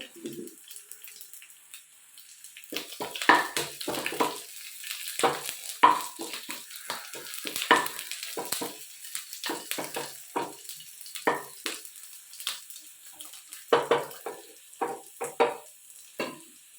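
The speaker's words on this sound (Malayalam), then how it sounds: "പിന്നെ കടുക് വറക്കുന്നുണ്ട് കറിയിലേക്ക് ചേർക്കാൻ വേണ്ടി" Mustard seeds popping and crackling in hot coconut oil, a burst of sharp irregular pops that starts quietly and keeps crackling throughout.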